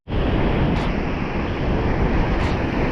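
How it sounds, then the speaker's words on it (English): Strong wind buffets the microphone on a beach while fishing, a loud, unbroken roar of gusting air and surf starting abruptly and holding steady throughout, with no voices. "That wind's quite strong though."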